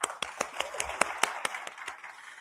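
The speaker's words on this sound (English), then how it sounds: "give yourselves a round of applause" An audience at an election logo reveal and press event gives a faint, sparse round of clapping, a few hands with uneven, thinning claps.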